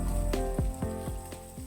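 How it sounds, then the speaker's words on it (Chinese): Sea bass frying in hot oil in a wok gives a soft, steady sizzle with no talk, while a few falling tones sweep through the short stretch. "锅中加油，油热后放入腌好的鱼，保持不动，煎个1分钟左右。"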